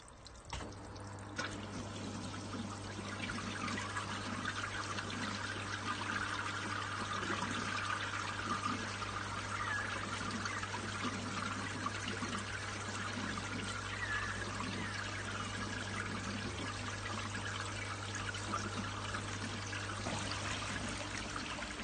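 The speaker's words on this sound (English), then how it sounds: "pump now running, water running smoothly" An electric pump in a garden pond runs with a steady low hum while water pours and trickles continuously, close and even throughout.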